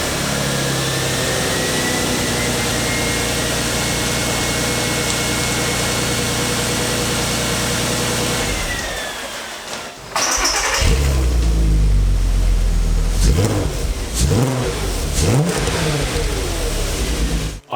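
A crashed Volkswagen Golf R32 engine cranks and catches, then idles and revs in short bursts, loud and close, with no talk over it.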